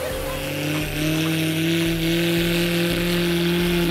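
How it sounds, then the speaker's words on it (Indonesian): Small cars driving off-road up a hill during a tourism rally in Jayapura, Indonesia, with a continuous close engine drone, strained steady revving tones and rough rumbling throughout. "dengan kemampuan pengemudi yang handal, maka ini menjadi perjalanan off-road yang menyenangkan"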